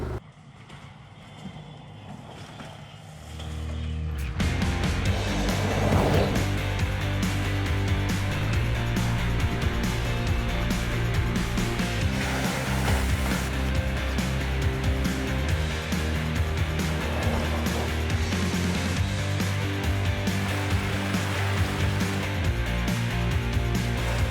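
An SE Terra electric 4x4 UTV buggy with a self-unloading bed drives along, giving a steady, loud, continuous drone with layered tonal hum that starts abruptly after a few seconds of quiet and holds level throughout.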